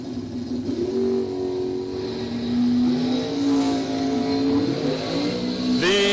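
Bracket drag race cars, a Sonoma and a dragster, roar past with loud sustained engine revving, pitch climbing through gear changes, close and continuous without talk.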